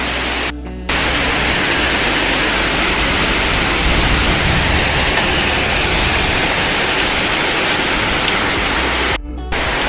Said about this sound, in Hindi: इतनी जोरों से बारिश हो रही है यार